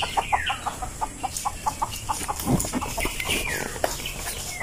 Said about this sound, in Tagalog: May mga labuyo dito mga idol eh.